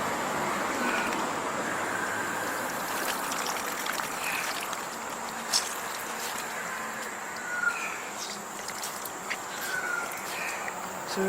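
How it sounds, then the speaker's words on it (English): Excess water squeezed out of moss for an air-layer plant cutting trickles steadily outdoors, a soft continuous dribble with faint birds and occasional small knocks in the background. "Again, remove this excess water."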